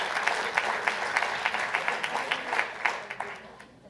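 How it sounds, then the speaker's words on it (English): Audience applause at a Greater Boston International Women's Day breakfast: a steady wash of many hands clapping, with the sharper individual claps standing out, fading toward the end. "So one more round of applause for that."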